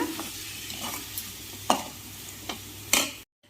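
Shark puttu is stirred as it fries in a pan. A steady close sizzle runs throughout, broken by a few sharp scrapes of the spoon against the pan, and it cuts off abruptly at the end.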